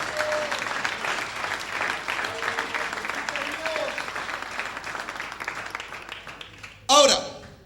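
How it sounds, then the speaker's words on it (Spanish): A church congregation claps steadily in praise, a broad wash of applause from many people, with a faint voice underneath and a sudden loud burst near the end. "Dale un fuerte aplauso al Señor de alabanza."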